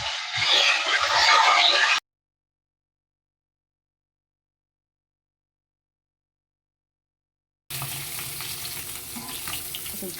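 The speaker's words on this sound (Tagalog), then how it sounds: "At ito naman yung ating pinipritong karne natin ito guys." Meat fries in a pan, a close, hissing sizzle heard in a short burst, then a long silence, then a steadier stretch of frying.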